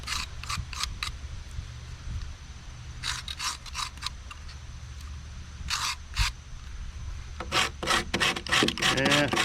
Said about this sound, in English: You can just take your knife and scrape it.